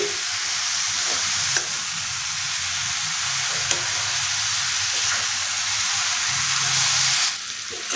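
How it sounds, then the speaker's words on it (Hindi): Drumsticks and spices stir-fry in a pan for a drumstick curry, a loud, continuous oily sizzle with a couple of sharp clinks from stirring, no voices. "मसाले में एक मिनट अच्छे से इसे फ्राई कर लेंगे"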